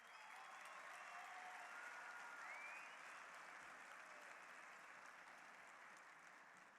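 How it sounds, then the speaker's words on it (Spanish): An audience applauds a professor at a speech in Madrid, sustained clapping from a large crowd that fades slightly toward the end, with faint voices mixed in. "Aplauso para el profesor, sí."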